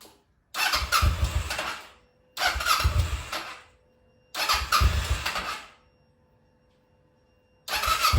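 A Kawasaki Ninja 650 motorcycle engine cranks and fires in repeated short bursts, each about a second and a half long. Near silent gaps separate them, and a fourth attempt begins at the end.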